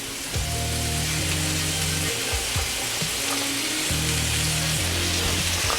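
Zucchini hits a hot pan alongside purple cabbage and collard greens and sizzles loudly and steadily. A broad hiss holds throughout, with a soft low hum underneath.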